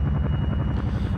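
A helicopter in a military video game thumps with fast, steady rotor pulses, loud and close, a brief continuous drone with no talking.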